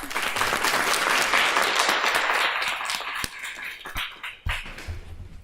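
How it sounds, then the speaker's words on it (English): A round of applause from the audience at a girls club career luncheon, dense steady clapping that thins out toward the end with a few sharp individual claps. "let's give everybody a round of applause"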